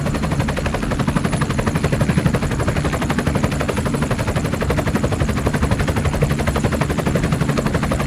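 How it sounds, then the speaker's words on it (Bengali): A helicopter flying overhead, its rapid rotor chop pulsing loud and continuous for several seconds, with a rough, steady engine drone underneath and no talking. "উপর দিয়ে হেলিকপ্টার যাচ্ছে"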